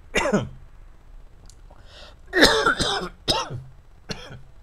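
Loud coughing and throat clearing close by: a sharp burst at the start, a quiet stretch, then a cluster of harsh coughs and a final short one, with no talking.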